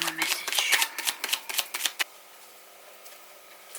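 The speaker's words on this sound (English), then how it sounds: "These cards are nice because they're small enough for me to shuffle that way and that way, so horizontal and vertical." Small tarot cards are shuffled by hand in a quick run of crisp riffling flicks and taps for about two seconds, then quiet.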